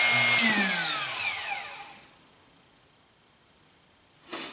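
Drill Doctor sharpener grinding a drill bit, a high whining motor that spins down and fades to near silence, then a brief rasp at the end.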